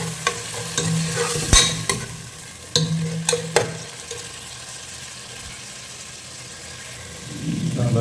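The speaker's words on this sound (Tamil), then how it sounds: "ஸோ கொஞ்சம் டொமேட்டோ பேஸ்ட் போட்டுக்கிறேன்." Tomato paste frying in a pan for fish curry, with a soft sizzle, several sharp utensil clinks and scrapes early on, then quieter sizzling, no talk.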